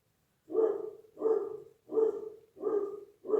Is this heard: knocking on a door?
no